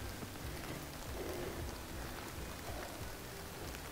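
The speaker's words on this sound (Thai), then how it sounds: "ฝนก็มา" Steady rain falls on a countryside spot in the USA during morel mushroom picking, a dense even patter that stays constant throughout with no voices.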